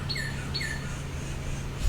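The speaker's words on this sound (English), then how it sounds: "You hear the birds." Outdoor birds chirp in short, bright, sweeping calls, two clear phrases close together, then a quieter stretch over soft background hum.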